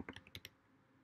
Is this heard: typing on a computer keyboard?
yes